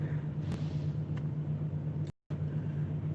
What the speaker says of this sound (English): We got army trucks everywhere in here.